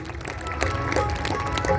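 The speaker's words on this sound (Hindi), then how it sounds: "जोरदार तालियां पुष्पा भट्ट जी के लिए बजाइए" Audience applause for Pushpa Bhatt at a stage programme of a cultural fair, steady and dense throughout, with scattered claps and crowd noise at moderate level.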